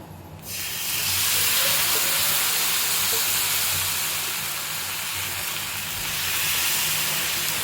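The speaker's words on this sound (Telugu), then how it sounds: "పెన్నం వేడెక్కాక మనము కలిపి పెట్టుకున్నాం కదా ఈ పిండిని దోశలాగా వేసుకోవాలి." Ragi rava dosa batter poured onto a hot pan, bursting into a loud, steady, close sizzling hiss that swells quickly and holds for several seconds with slight variations in intensity.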